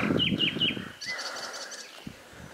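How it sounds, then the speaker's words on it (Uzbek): Birds chirp in the mountains near Charvak: three quick, bright tweets come close together at the start, followed by fainter, higher calls over a quiet outdoor background. "ovozlari chig'ir chig'ir qilib qushlarni"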